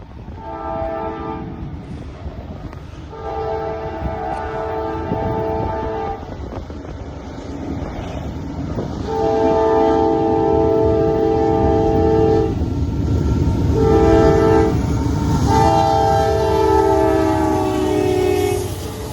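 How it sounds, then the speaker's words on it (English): A westbound CSX freight train rumbles past with repeated blasts of its multi-tone horn, loud and near, over the steady roar and clatter of rolling cars, at Lake Avenue, Blasdell, New York. "we got a CSX westbound train down the line"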